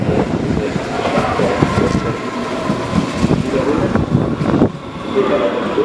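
Train traffic at Hackerbrücke in Munich, with rail cars rumbling past close by as a steady, broad roar that persists throughout, with faint clatter on top.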